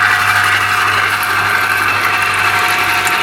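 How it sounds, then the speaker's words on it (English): Electric citrus juicer spinning while pressing limes, a loud steady mechanical whir with a constant hum and faint rattling, close up and uninterrupted, with no talking. "It spins around just like a mechanical or a manual juicer would do"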